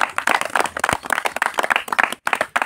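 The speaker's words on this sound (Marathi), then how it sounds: "तर यांच्यासाठी जोरदार टाळ्या एकदा" A lively round of clapping from devotees honouring bhajan singers at a palkhi pilgrimage gathering on the road to Pandharpur, with close, rapid, uneven hand claps in a dense burst and a brief gap near the end.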